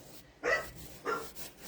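A small dog gives two short, sharp barks about half a second apart, fairly faint and heard indoors, followed by a softer trailing yip.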